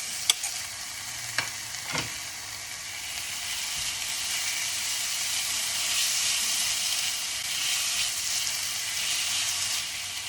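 Chopped tomato and green chili dropped into browning onions in a pan, bringing a bright, steady sizzle close by, with a few sharp clinks at the start and no talking.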